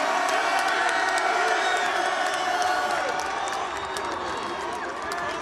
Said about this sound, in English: Shreveport, let's give a big round of applause for UAB, the 2001 Independence Bowl champions.